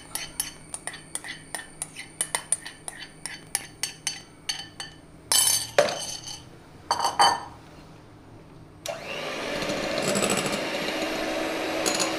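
Egg yolks for a vanilla cake batter are lightly beaten in a bowl with a utensil, making a quick run of sharp clinks against the bowl. A few louder scrapes follow, then a steady rushing noise.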